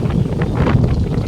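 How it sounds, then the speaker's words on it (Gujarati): Strong wind buffets an open village house in a steady, loud roar with rushing gusts and microphone buffeting. "પવન તો અહીંયા ફૂલ જ આવે, ખુલ્લું રહ્યું ને આખું ફૂલ પવન આવે"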